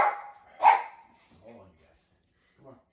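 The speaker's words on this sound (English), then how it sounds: "you can hear my dog in the background" A pet dog barks a couple of times in the background of a home, a sharp bark standing out early, followed by faint low murmuring voices further off.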